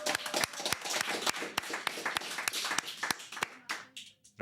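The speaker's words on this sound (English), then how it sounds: "Big hand for Marts and K9 for organizing this whole thing." Crowd applause with dense clapping at a Classic Tetris World Championship regional qualifying event in Montreal, sustained and fairly close before thinning out at the end.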